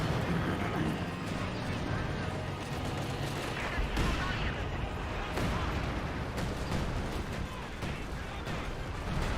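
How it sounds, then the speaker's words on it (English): Artillery barrage in the video game Company of Heroes 2, a dense, continuous rumble of explosions and gunfire lasting throughout, loud and close, with a sharper burst near the four-second mark. "An artillery barrage here"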